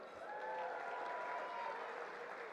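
Diners at an annual dinner at the Northern Kentucky Convention Center cheer and clap when prompted, a sustained, fairly faint crowd roar with a few whoops rising above the applause.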